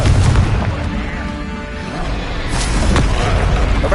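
Confringo fire spell explosions in Hogwarts Legacy on PS5, heavy booming blasts with a crashing burst, loud and dense across the whole stretch.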